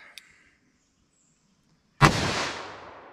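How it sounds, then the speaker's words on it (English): A .357 Magnum revolver fires a single 180-grain XTP round outdoors, a sharp loud crack that trails off into a fading rumble, after a faint click and near silence. "So next up, we have our 357 mag."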